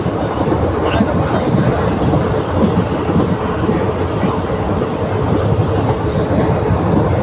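A superfast express train runs on rails at night through forest near Pollachi and Udumalaipettai, heard from inside as a loud, steady broadband rumble with faint rhythmic clatter throughout.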